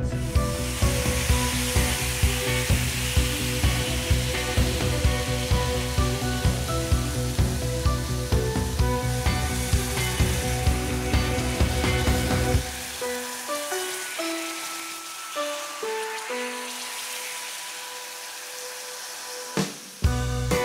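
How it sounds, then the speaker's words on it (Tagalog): Pesto mix frying in olive oil in a cooking pot over medium heat, a loud steady sizzle with rhythmic stirring scrapes that drops to a softer crackle partway through. "Then I added the pesto mix and fried it for about 1 minute."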